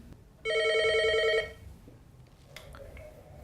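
A telephone rings once on a TV health show as a caller joins, a bright electronic ring about one second long, followed by quiet room tone and a faint voice.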